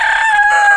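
A chicken crows once, a short, loud, close call with a bright, tonal quality.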